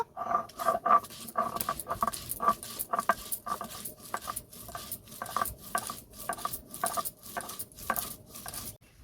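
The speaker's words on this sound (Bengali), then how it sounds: "এখন আমি আদাটাকে বেটে নেব।" Ginger being ground into paste, a rapid run of rhythmic scraping and knocking strokes, close and fairly loud, repeating steadily throughout.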